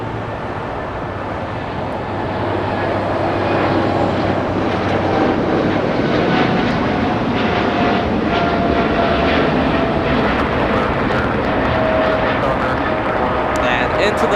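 A cargo jet with GE90 engines climbs away at Los Angeles into fog, its engines a loud, steady roar that swells slightly and stays constant, with a voice talking over it.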